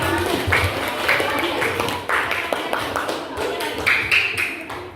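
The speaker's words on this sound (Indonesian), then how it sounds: "Boleh kasih tepuk tangan buat kelompok 2." Students in a science open class clap for group 2 as it comes to the front. Fairly close, uneven clapping runs through the full few seconds, with voices talking over it.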